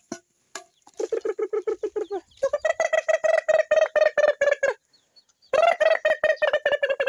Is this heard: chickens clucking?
yes